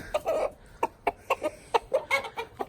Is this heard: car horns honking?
no